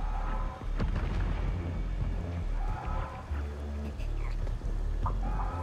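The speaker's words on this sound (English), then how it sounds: "There's actual fireworks over there!" Fireworks bursting in Star Wars Outlaws, a series of deep booms and crackles over a steady low rumble, repeating every second or so at moderate distance.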